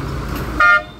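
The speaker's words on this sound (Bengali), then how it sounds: "বাস চলে যাচ্ছে ওদিকে" A bus at a roadside stop in Ketugram gives a short loud honk over low engine rumble, which then fades as the vehicle pulls away.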